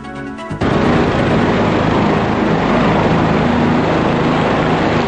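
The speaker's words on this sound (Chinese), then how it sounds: "螺旋桨转啊转，加上呼呼的风切声" Military helicopter at a Han Kuang exercise landing on an elementary school playground, rotors spinning with a loud, steady broadband roar and whooshing wind that starts abruptly after a brief quieter moment and holds constant.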